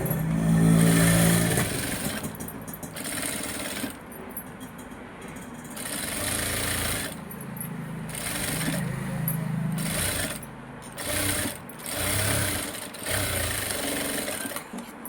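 A sewing machine runs stitches around the edge of fabric while finishing the back side, its motor whirring in repeated bursts separated by short pauses.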